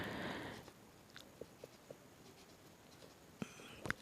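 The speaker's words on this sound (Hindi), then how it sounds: "तो जो है हम पहले लिखेंगे एनुअल इनकम ऑफ तैयब" Pen writing by hand during a 9th-class mathematics lesson: a run of soft scratchy strokes at the start, then scattered light taps and short scratches, faint and close, with no talk.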